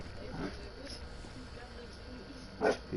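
A small cavapoo dog lets out a few yips and barks, with one sharper bark near the end, over a quiet indoor background with a video game playing.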